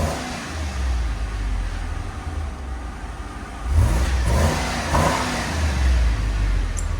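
A 2016 Ram 2500 HD 4x4 pickup with a 6.4L HEMI V8 rumbles at a deep idle nearby, then is revved sharply twice, the engine note climbing and falling back each time.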